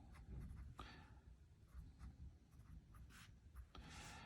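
Marker or chalk scratches across a board in short strokes and squeaks, fairly close but faint, as figures are drawn for a law of sines and cosines word problem, with no talking.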